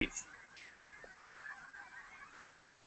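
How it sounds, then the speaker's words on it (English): A huge flock of about 5,000 geese honks in a dense, continuous clamor, with scattered calls rising above the mass and a person talking faintly underneath. "It's a lot of geese."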